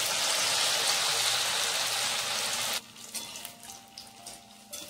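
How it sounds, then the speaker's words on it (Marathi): Fasting vada frying in hot oil: a loud, dense sizzle fills the first part, then drops suddenly to a quieter, crackling bubble with small pops for the rest. "आणि आता आपल्याला तेलामध्ये टाकून घ्यायचं आहे"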